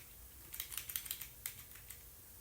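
Keys clatter on a computer keyboard while a typo is corrected during a Raspberry Pi 4 setup, a quick burst of close, crisp keystrokes followed by a few scattered taps.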